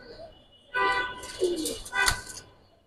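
A Giribaz pigeon cooing close by, two or three soft throaty coos in quick succession against a quiet background.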